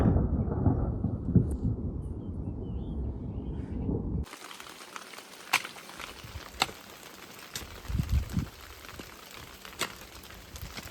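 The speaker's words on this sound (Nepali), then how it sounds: "लु आकाश पनि कराउनु थाल्यो यतैतिर।" Low rumbling thunder rolling across the sky over a rural village during a rainstorm, heard in the opening seconds, followed by steady rain hiss with scattered louder bursts.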